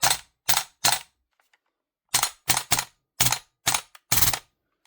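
A WE SMG8 airsoft gun low on gas test-fired in single and short clusters of sharp, hollow snapping shots, about ten separate reports with brief pauses between them, close and dry with no talking.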